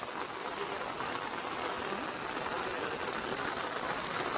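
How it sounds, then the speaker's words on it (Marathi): Steady, dense hiss of heavy rain pouring down nearby, continuous and even throughout with no pauses. "पाऊस काय थांबायचं नाव घेत नाही, अजिबात थांबायचं नाव घेत नाही पाऊस"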